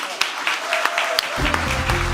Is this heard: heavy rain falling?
no